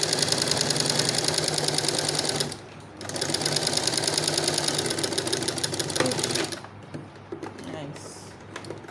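A sewing machine runs steadily while stitching a shirt placket close to the fabric edge, with a brief pause near the middle and a softer stretch toward the end.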